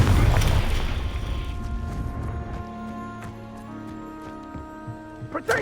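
A loud burst from the Confringo spell in the game Hogwarts Legacy opens with a heavy low boom that fades over a few seconds, then gives way to quieter game sounds and a few small pops near the end.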